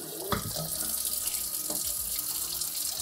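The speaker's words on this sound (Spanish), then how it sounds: "vamos a darle con un poquillo de agua también" Tap water runs steadily into a sink as a budgie cage tray is rinsed, a close, continuous splashing stream with a couple of brief knocks from the tray.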